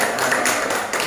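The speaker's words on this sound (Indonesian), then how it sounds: "tepuk tangan dulu Bapak Ibu" A few short bursts of hand clapping from an audience of teachers at a training session, spaced in an uneven rhythm and fairly loud.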